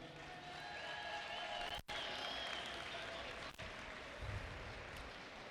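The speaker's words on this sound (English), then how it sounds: "How about one last round of applause for both these teams, huh?" A crowd at a high school basketball playoff game between Father Ryan and Station Camp applauds both teams after the final, the clapping fairly distant and steady with a couple of short dropouts.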